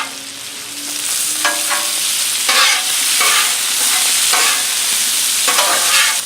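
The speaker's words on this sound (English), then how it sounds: "I'm just going to cook this until the Brussels sprouts start to get a little bit of color on them" Brussels sprouts and bacon frying on a Blackstone griddle, a loud continuous sizzle overlaid by several bright scraping stirs of a spatula across the flat metal surface, heard up close with nobody talking.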